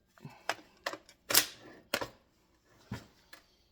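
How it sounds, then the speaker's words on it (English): A rifle bolt is worked and dropped onto a snap cap with a series of sharp metallic clacks and snaps, about seven distinct hits spaced irregularly, close and fairly quiet, with no talk. "Go ahead and drop the bolt."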